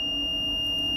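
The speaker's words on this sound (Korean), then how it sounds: "부저가 계속 나오고 있고" A device buzzer sounds continuously during a safety-process power reset, a steady high electronic tone held unbroken and fairly loud over a low background hum, with no speech.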